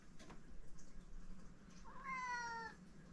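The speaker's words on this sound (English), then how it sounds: "Here comes a cat." A cat meows once, a clear drawn-out call heard near and fairly loud over a low background murmur in a shop setting.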